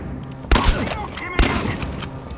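Shotgun fire in the video game Chernobylite: two loud, sharp blasts about a second apart, each with a short booming tail, over quiet game ambience.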